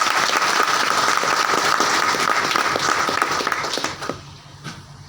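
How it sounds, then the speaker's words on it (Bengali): Loud, sustained applause from an audience honoring a guest at a company gathering, dense clapping throughout before tapering off near the end. "স্যারের জন্য সবাই জোরে একটা করে তালি দিয়ে"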